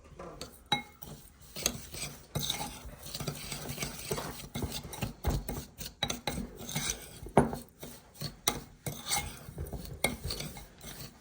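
A spoon or whisk stirs a coating mixture for pork belly in a bowl, giving a long run of irregular scraping, clinking strokes up close and moderately quiet, with no one talking.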